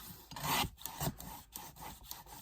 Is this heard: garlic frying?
no